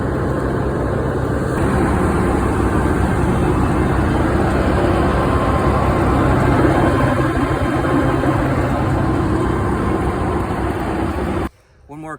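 A tractor runs at full speed in an apple orchard for frost protection, a steady loud low engine drone with constant vibration that continues without a break until it cuts off abruptly near the end.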